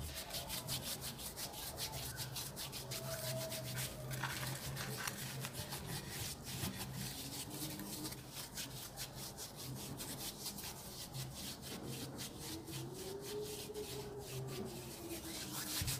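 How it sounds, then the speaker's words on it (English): Hands scrubbed with salt, a continuous close gritty rubbing with quick repeated scratchy strokes, fairly quiet and steady with no speech. "So I'm scrubbing this around my hand for 10 minutes."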